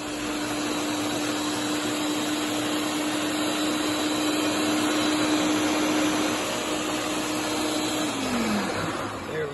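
Blender grinding ginkgo leaves in high-proof alcohol, a steady loud whirring motor drone running continuously before winding down near the end.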